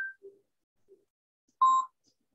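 Telephone beeps: a short high tone, two faint low blips, then a louder sustained dial-tone-like beep, sparse and isolated against silence with no voices.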